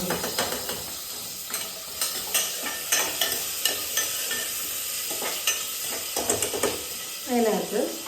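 Onions and shallots fry and are stirred in a pan for Kottayam-style beef perattu, with steady sizzling under repeated close scraping strokes of a spoon against the pan, and a brief louder burst near the end.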